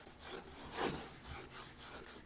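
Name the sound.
sanding brush strokes on a painted wooden cabinet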